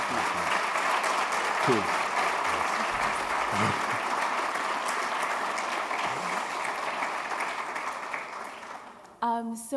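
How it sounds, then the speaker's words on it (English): An audience at the African Philanthropy Forum annual conference applauds two panel speakers with a sustained, full round of clapping that slowly fades, followed by a brief spoken remark at the very end. "if we can please give them a round of applause"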